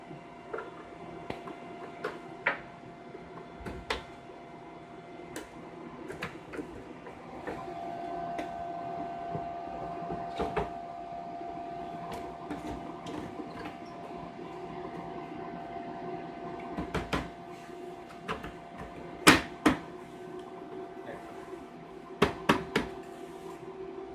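Latch of a 1995 Silicon Graphics Indigo2 IMPACT 10000 workstation case being worked, with scattered sharp clicks and knocks, some louder snaps near the end, over a quiet hum.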